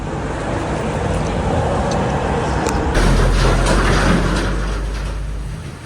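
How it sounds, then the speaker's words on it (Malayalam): Heavy road rumble of goods trucks passing by, a loud continuous low drone that swells as a vehicle draws near, with no talk over it. "ഇതുപോലുള്ള ട്രക്കുകളെല്ലാം"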